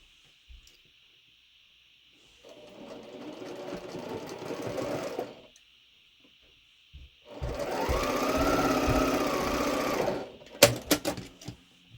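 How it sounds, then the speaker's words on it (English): A sewing machine stitches quilt pieces together in two steady runs of whirring motor and needle, separated by a pause, followed by a few sharp clicks and clunks near the end. "Press, and then sew the bottom 2 together."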